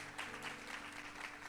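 Applause fills a church during an ordination service, a brief, steady burst of clapping from a congregation heard at moderate distance.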